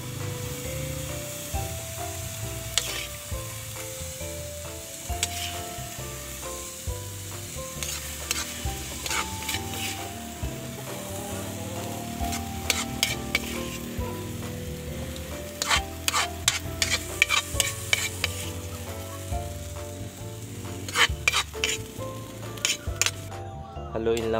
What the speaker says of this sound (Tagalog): Haluin lang po natin siya sa itlog.